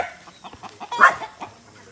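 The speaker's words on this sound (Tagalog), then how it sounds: "May mga manok ni Papa." Chickens cluck in short, rhythmic bursts nearby, one louder squawk rising in the middle of the steady pecking chatter.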